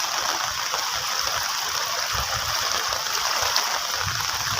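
Heavy monsoon rainwater gushes across a road in the Konkan, a steady, dense rushing wash that holds constant throughout, close and loud with no voices.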